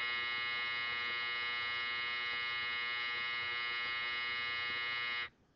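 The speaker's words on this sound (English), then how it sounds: "That would be my dryer." A home clothes dryer gives off a loud, steady electric buzz that holds at one even pitch for about five seconds and then cuts off abruptly.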